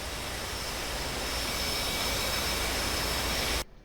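A fighter jet's engine roars steadily in a flight simulator game, a loud continuous broadband rush that stops abruptly at the end, with no voices.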